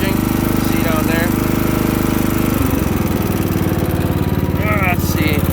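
Craftsman LT1000 riding lawn mower with its small engine running close by, a steady pulsing putter that shifts pitch partway through, while people talk over it.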